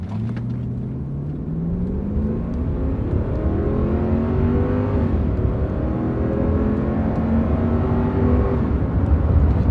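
Old luxury car accelerating from a stop, its engine note climbing steadily in pitch through smooth gear shifts, a loud continuous rumbling whir heard from inside with no talking.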